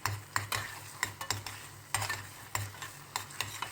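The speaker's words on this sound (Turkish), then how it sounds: "Hemen karıştırıyorum." Tomato paste cooking in a pan is stirred with a utensil, a series of irregular scraping strokes over a soft sizzle, close and fairly quiet, with no voices.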